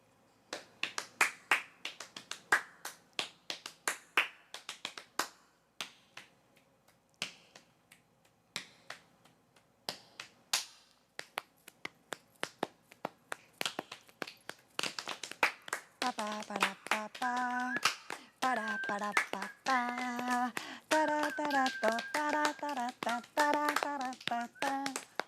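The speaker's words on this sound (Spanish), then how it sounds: "tenemos los chasquidos, las palmas" Body percussion builds from crisp finger snaps and hand claps in a lively rhythm, later joined by a melodic singing voice over the continuing snaps.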